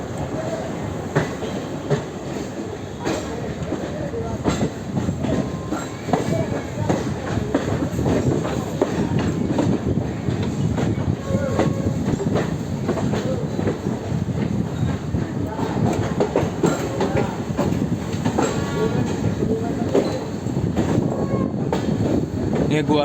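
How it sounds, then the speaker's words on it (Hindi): A passenger train hauled by a New Guwahati shed WDG3 diesel locomotive rolls along the rails with a dense, continuous rumble and a steady clickety-clack, loud and close throughout, with faint voices mixed in. "न्यू गुवाहाटी शेड का WDG3 है लोकोमोटिव।"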